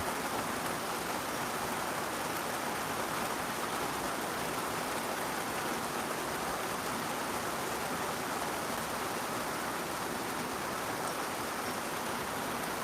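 Rain falls steadily outdoors, a dense, even hiss that holds at a constant level throughout, with no voices over it.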